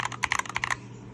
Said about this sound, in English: this is what the spacebar sounds like on these keyboards without any good stabilizers or no mods, especially tape mods